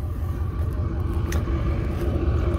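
A dumpster truck idles and reverses, its engine a low continuous rumble close by, with a few faint clanks over the steady drone.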